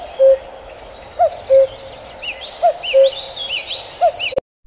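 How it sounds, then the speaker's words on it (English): A cuckoo calls repeatedly outdoors: clear, hollow two-note phrases recurring about every second and a half, with faint higher chirps from other birds in the background. "Cuckoo."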